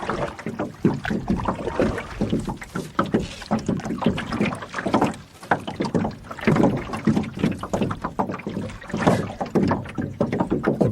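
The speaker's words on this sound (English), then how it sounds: "The boat's absolutely empty right now, so you're hearing air getting underneath it a little bit." An empty canoe rides on the water in French River Provincial Park, tilted at an angle so air gets under its hull. It makes close, continuous hollow slapping and gurgling in uneven bursts, and nobody talks.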